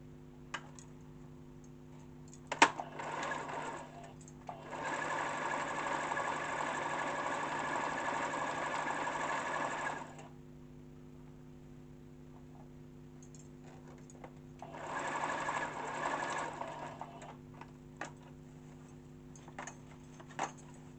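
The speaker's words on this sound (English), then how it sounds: "so I'm going to stitch from here to there" Domestic sewing machine stitching a pocket seam on an African print kaftan, two steady whirring runs of several seconds each separated by quiet, with a few faint clicks between them.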